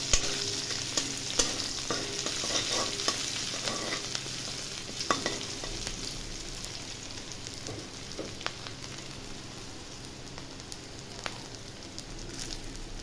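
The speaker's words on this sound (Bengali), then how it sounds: "8-10টা দিয়ে দিলাম কারি পাতা। ভালো করে ভেজে নেবো এগুলো।" Chopped onion and eight to ten curry leaves fry and get stirred in a pan for a potato snack, giving a steady, close sizzle with small crackles and scraping throughout, no talk.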